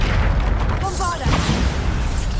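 A Bombarda spell explosion in Hogwarts Legacy, a low rumbling boom sustained under combat sounds, with brief whooshing magical effects and a voice calling out over it.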